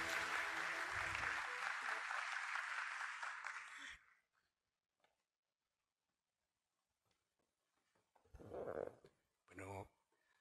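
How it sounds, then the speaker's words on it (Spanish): Applause from the audience at an award ceremony honouring a doctor, steady clapping filling the first four seconds before fading into quiet, followed by brief bursts of a voice. "Que se siente el aplauso, por favor, para el doctor."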